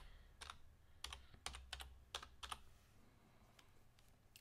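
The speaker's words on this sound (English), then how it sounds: "I'll just type in" A computer keyboard is typed on in short bursts of key clicks, about a dozen taps clustered near the start and then a few scattered strokes, faint and close against a low background hum.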